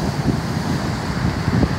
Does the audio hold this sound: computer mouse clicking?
no